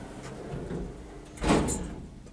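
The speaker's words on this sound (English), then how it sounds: "Instant door close is really good." Doors of a 1990s OTIS hydraulic passenger lift, rated 780 kg and 11 persons, close in one quick, near thud-like movement over a low hum of machinery.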